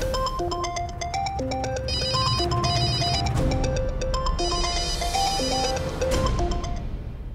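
A mobile phone ringtone plays a bright, repeating electronic melody, loud and close, and keeps going without a break and without talking.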